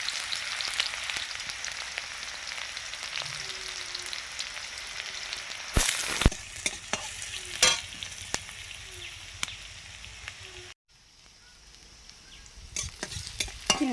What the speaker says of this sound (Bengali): পেঁয়াজ কুচি